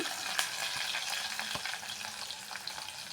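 Garlic, ginger and shallots fry in hot oil with curry leaves, giving a steady, soft hissing sizzle with light crackles and occasional stirring clicks.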